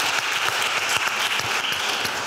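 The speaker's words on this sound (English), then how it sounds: "We can give a round of applause to Anita, even if she's not here." An audience at a women's mastermind panel event in New York claps in a steady, moderately distant round of applause that continues evenly without cheering.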